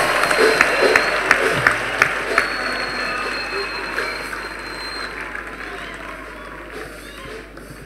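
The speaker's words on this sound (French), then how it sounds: "Clap offering to Jesus Christ." A church congregation at a worship conference claps as an offering to Jesus Christ, sustained group applause with crowd voices mixed in, loudest at first and gradually easing.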